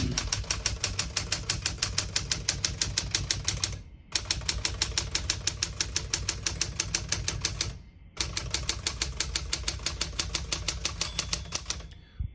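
A 1968 Smith-Corona Super Sterling portable typewriter is typed on in rapid, even keystrokes, loud and close, with two brief pauses that sound like carriage returns.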